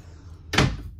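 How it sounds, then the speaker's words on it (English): A bathroom door in a 2021 Grey Wolf 23MK travel trailer swings open with a single close, moderately loud thump and rattle, heard alone without talk. "Walking through this door is your bathroom."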